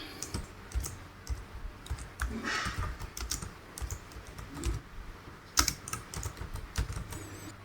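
Steady typing on a computer keyboard while entering text in a Word document, a close, continuous patter of quick key clicks with louder strikes scattered throughout.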